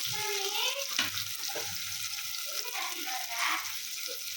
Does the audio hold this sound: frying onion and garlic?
yes